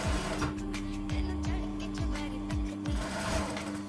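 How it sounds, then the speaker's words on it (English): A sewing machine stitches fabric for churidaar sleeves, a rapid steady mechanical whirr with regular clunking pulses about twice a second, close and alone. "And then stitch across the bottom, leaving 1/2 inch of gap."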